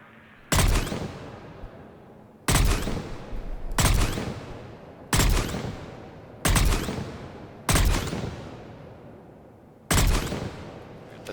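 Valkyrie assault rifle in Mass Effect 3 firing seven loud, sharp bursts at irregular intervals, each decaying quickly into a brief echo, with no talk over them.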